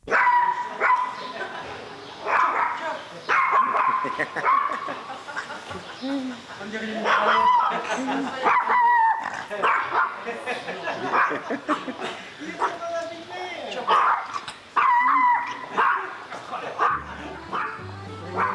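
A dog barks and yips at an outdoor garden terrace restaurant in Paris, repeated close barks and whimpers mixed with people talking nearby.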